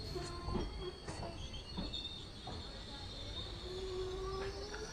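An express train at Bhogolu railway station on the Kurnool to Guntur line, a steady rumble of railcars with a high wheel squeal and a long sustained tone, faint voices intermittently audible beneath.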